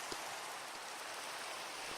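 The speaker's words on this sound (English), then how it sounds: "I usually quite like the rain in Minecraft." Steady, soft rain hisses without a break in a Minecraft survival world, a dense even wash of falling drops with no other sounds.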